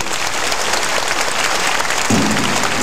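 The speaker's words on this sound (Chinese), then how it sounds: "各位来宾，让我们再次以掌声欢迎吴继贤小姐。" An audience claps to welcome a singer at a stage show, a steady and loud wash of applause that swells a little near the end.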